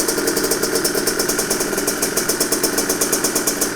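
A motorcycle engine runs steadily and close with a fast, even pulsing rhythm and a buzzy mechanical tone throughout. No voices are heard.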